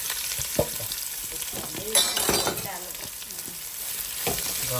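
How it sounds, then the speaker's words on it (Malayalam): Chopped onions are tipped into a hot frying pan and sizzle loudly, with a few sharp clatters as they land and a steady crackling fry continuing after. "ഇതാ നമ്മുടെ സവാള അങ്ങ് തട്ടി കൊടുക്കുക"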